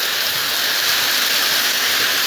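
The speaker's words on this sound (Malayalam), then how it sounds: "സന്ധ്യയോടടുത്ത് മഴ ഇങ്ങനെ ആർത്തലച്ചെത്തിയിരിക്കുന്ന ദൃശ്യങ്ങളാണ്" Heavy rain pouring down at dusk, a dense, loud, unbroken roar of falling water that stays even throughout, with no one speaking.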